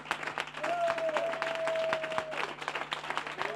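A church congregation applauds and cheers in praise during a sermon, steady dense clapping from a crowd with a sustained tone and occasional voices carrying over it.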